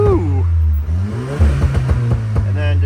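A hand-controlled Volkswagen GTI making over 300 horsepower idles with a low steady drone, its engine surging in short revs under a voice talking nearby.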